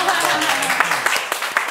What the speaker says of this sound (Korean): 우리 박수가 또 필요하네요.